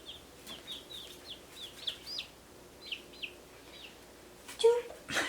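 Baby chicks of a rare chicken breed peep in a steady series of high, thin chirps, close by and clear over a quiet indoor background, ending with a brief louder rustle.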